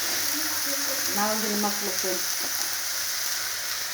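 Tomato and onion frying in oil in a pan for a vegetable palya, a steady broadband sizzle throughout, close and fairly loud, with a voice speaking briefly over it.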